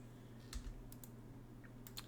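Typing on a computer keyboard, a few quick soft key taps in small bursts over a faint steady background hum, quiet and close, no talking.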